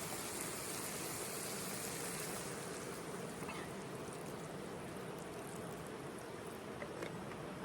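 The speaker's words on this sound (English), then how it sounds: "Now add a little bit of water." Water is poured into a paella pan on a camping stove over crumbled stock cube, making a faint, steady hissing trickle that runs unbroken for several seconds.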